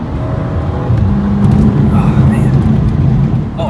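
BMW 435i with N55 turbo engine and catless downpipe under boost, a loud close engine drone building with turbo whine, with a voice speaking over it.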